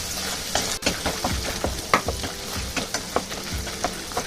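Garlic chutney ingredients sizzle and fry in a pan while being stirred, with repeated scraping and tossing sounds over a steady crackle.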